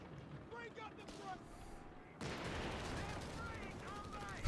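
Gunfire and artillery rumble from a Company of Heroes 3 tournament match, an anti-tank gun among the WWII weapons, growing denser and louder halfway through, with a voice talking over the battle.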